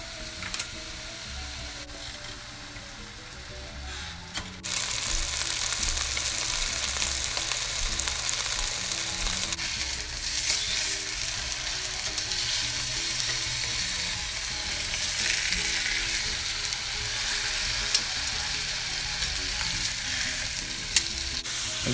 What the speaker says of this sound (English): once that heats up, you're gonna go ahead and put your chicken breasts in